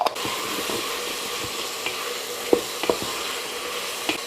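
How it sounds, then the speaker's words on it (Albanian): Meat and onion fry in a pan with arrabbiata sauce, a steady soft sizzle broken by a few clinks and scrapes as they are stirred. "2-3 minuta e ka vërdisim dhe me salsën, mishin dhe qepën."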